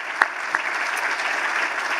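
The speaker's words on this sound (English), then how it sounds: "Let's give them a round of applause again and thank them." Audience applause at a Los Angeles mayoral summit, a dense, steady clapping from a crowd that holds level throughout.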